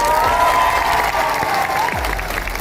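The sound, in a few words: audience applause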